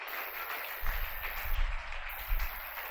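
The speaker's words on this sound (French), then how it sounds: "Acclame pour Jésus." A church congregation clapping and applauding for Jesus, a steady wash of many hands with rumbling low swells, moderately loud and continuous without talk.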